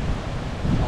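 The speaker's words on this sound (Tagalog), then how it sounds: "Nakakatakot ang alon." Strong sea waves crash and churn under gusting wind during Typhoon Carina, a dense, loud roar close to the microphone with wind buffeting throughout.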